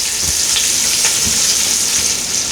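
Smoked sausage browns in an Instant Pot with a steady, loud hissing sizzle and occasional soft stirring scrapes, close up and without talk.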